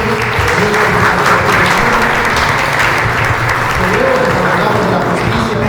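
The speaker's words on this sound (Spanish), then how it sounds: "Pues un fuerte aplauso para el doctor." An audience at a judicial reform forum of a Yucatán law graduates' college applauds a speaker, steady dense clapping for several seconds, loud and close.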